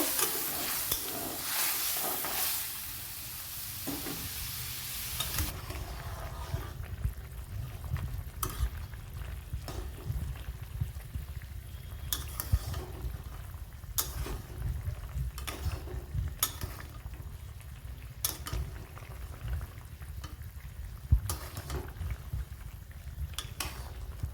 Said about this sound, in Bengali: কিছু শশা দিয়ে দিলাম দিয়ে দেবো জল কিছুক্ষণ সিদ্ধ করে নেব